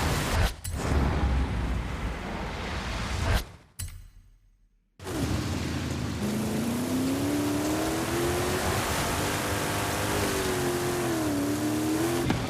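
A car in the Forza Horizon racing game drives with a loud, steady engine roar that drops out briefly, then returns with a rising and falling whine as the engine revs, with no talking.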